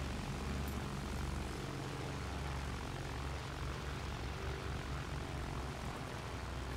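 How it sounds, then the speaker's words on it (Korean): A bomber aircraft in Battlefield 1 drones overhead with a steady, continuous propeller engine roar that holds at an even level throughout. "폭격기는 3인칭으로 해야 제맛이죠"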